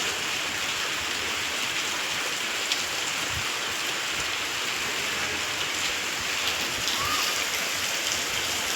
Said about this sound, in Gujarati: જો વરસાદ ચાલુ